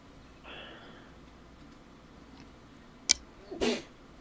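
A single short sneeze bursts out near the end, fairly close, after a quiet stretch with faint background sounds.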